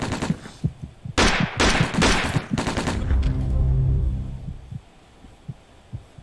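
Gunfire in the video game Alekhine's Gun, a quick cluster of loud, close shots in the first few seconds, followed by a low rumbling hum that fades, with a few faint thuds afterwards.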